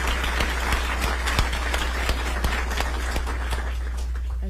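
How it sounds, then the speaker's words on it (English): An audience claps together at a mayor's news conference celebrating the Aging Partners relocation, a dense, even patter of many hands with no voices over it. "They deserve a round of applause."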